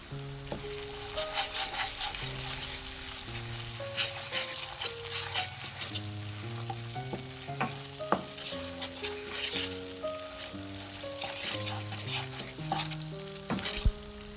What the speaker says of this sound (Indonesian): lalu kita tumis sampai dia benar-benar wangi